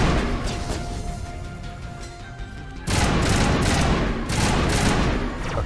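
Rapid gunfire from a firefight in Mass Effect Legendary Edition, with dense bursts of shots that swell louder after a brief lull and continue in overlapping volleys.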